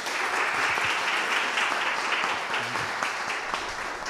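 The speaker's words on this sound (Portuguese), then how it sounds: "Dá uma salva de palmas ao Senhor." Church congregation applauding at a service in Guarulhos, a steady dense clapping that fills the space evenly throughout, with a few faint voices underneath.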